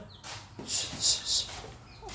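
A chicken clucking nearby at a rural family home in Thailand, with a few short, bright calls over a low background murmur.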